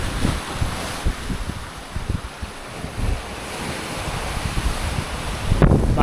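Big sea swell rolling past a sailboat en route from Sicily to Greece, with strong wind buffeting the microphone and repeated wave surges and splashes, loud and close, with no talking.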